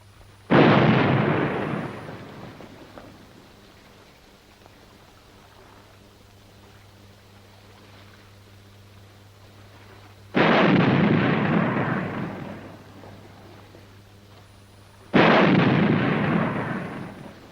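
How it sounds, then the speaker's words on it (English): Three heavy booms like gunshots ring out across open water, each a loud blast with a long decaying tail, the first early and two more close together near the end, with quiet engine hum between. "Sounds like somebody shooting."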